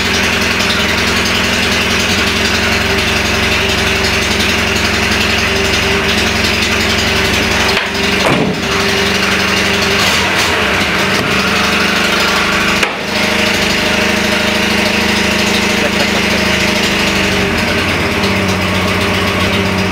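A homemade engine assembled from two engines runs loudly and steadily at close range, with a few abrupt stumbles and misfires breaking its rough, knocking idle.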